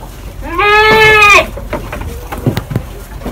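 A goat on an Indonesian goat farm gives one loud, drawn-out bleat that lasts nearly a second, close to the listener, followed by quieter rustling and scattered knocks.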